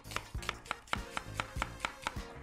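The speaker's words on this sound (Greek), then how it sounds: "Συνεχίζουμε κόβοντας ένα κρεμμύδι" A knife chops an onion on a cutting board in a home kitchen, about a dozen steady, evenly spaced thuds, close and clear with no talk.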